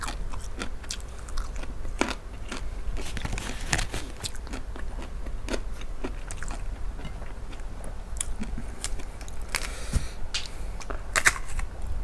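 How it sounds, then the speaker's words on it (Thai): Big mouthfuls of pork belly with bamboo shoots are bitten and chewed up close, with continuous wet mastication broken by frequent crisp crunches and clicks. "ไปเริ่มเลยกินแบบคำใหญ่ๆโตๆเนี่ยฟิน"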